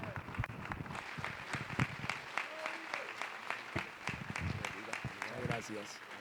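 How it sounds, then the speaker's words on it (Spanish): Congregation applauding at a Spanish-language church service, a steady dense patter of many hands filling the room, with voices mixed in underneath. "Dele ese aplauso fuerte al Señor"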